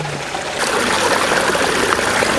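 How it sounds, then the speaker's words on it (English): A fast-flowing stream rushes and gurgles close by, a steady, fairly loud wash of water that swells slightly after the first half second. "it definitely helps when you have a nice fast flowing stream"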